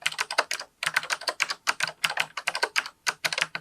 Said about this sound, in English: these keys are very clicky and nice to use.